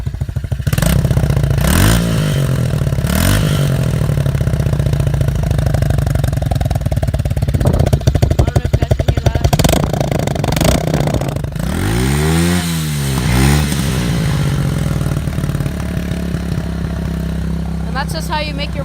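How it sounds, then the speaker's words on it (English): A dirt bike fitted with a muffler extender runs close by, blipping its throttle in sharp revs over a rattling idle, with clattering mechanical noise. The engine then settles into a steady buzz. "So now you want to do is turn on your dirt bike. Go ahead and start it up."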